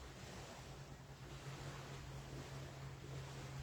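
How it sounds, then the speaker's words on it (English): Ocean waves and surf roar as a steady, broadband wash with wind buffeting the microphone, continuous and fairly close, no voices. "What a gift to be able to hear the sound of the beautiful waves."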